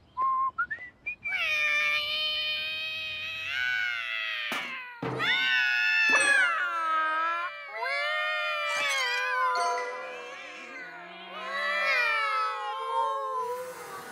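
Cartoon cats meow and yowl in a drawn-out, wavering chorus outside at night, with whistle-like tonal cries rising and falling almost continuously, loud and close, with a few short sharp thumps.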